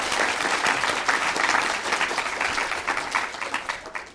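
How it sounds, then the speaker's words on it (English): A room full of people clapping for young speakers at a Years 3 and 4 public speaking competition, brisk continuous applause that swells and then slowly thins over four seconds. "So if we could just get a round of applause again for all of them."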